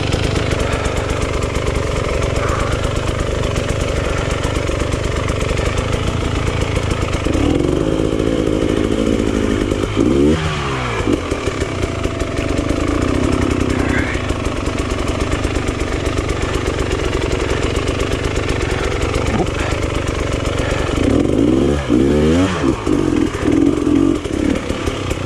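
A hard enduro motorcycle engine drones continuously while being ridden over rough terrain, loud and close, with the revs rising and falling as the throttle is worked throughout.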